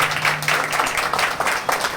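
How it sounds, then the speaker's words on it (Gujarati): Crowd claps for the octopad player at a bhajan evening, a short burst of dense, continuous applause from many hands, fairly loud and even, with a low held note faintly beneath. "એકવાર ઓક્ટોપેડ પર અમારા નિલેશભાઈ માટે જોરદાર તાળી વગાડો."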